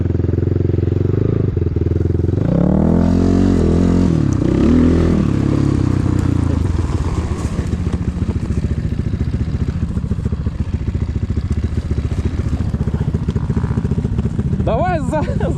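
A KEWS K16 PRO motorcycle rides across frozen lake ice, its engine droning loudly and continuously with revving pitch changes and clattering throughout, while voices talk over it.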